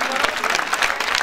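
Crowd at a live Hindu jagran night gathering in Jodhewal Basti, Ludhiana, claps loudly and rapidly in a dense, sustained burst, with a few voices mixed into the applause.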